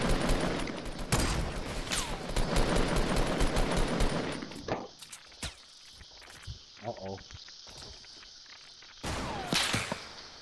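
Fortnite Battle Royale gunfight: heavy bursts of rapid automatic fire and sharp single shots, loud at first, then a quieter stretch of scattered shots and footsteps before another loud volley.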